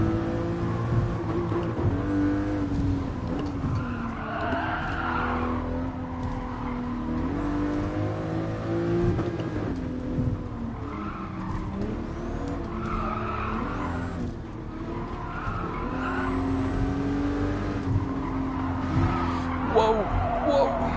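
Race cars in the Gran Turismo Sport racing game, with a virtual reality setup and racing wheel, chasing a Ferrari: sustained engine whine rising and falling through gear changes, with tire squeals and skids. Someone talks over it.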